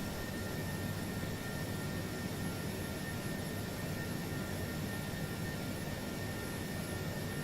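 Airbus A330 jet engines in Microsoft Flight Simulator during a climb-out, a steady, dense broadband roar with a constant high whine, unbroken and even throughout.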